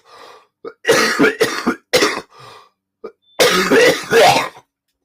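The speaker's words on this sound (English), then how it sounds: "Nice cough there." A person coughs and clears their throat repeatedly, a series of harsh, close bursts in quick succession with brief pauses between.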